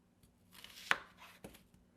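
A knife chops a peeled onion on a cutting board: two sharp close thuds with a few softer taps around them, in a quiet kitchen.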